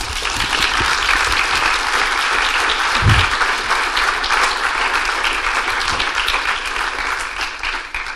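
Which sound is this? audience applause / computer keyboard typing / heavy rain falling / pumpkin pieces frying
audience applause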